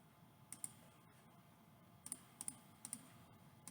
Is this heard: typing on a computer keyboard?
yes